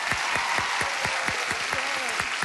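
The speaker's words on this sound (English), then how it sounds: "just give them a round of applause" Studio audience of a 1987 TV game show applauds, a full, steady burst of clapping close and continuous throughout.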